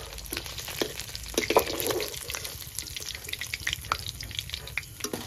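Fish pieces fry in a pan, with soft sizzling and scattered crackles and pops mixed with wet splashy stirring sounds at moderate loudness.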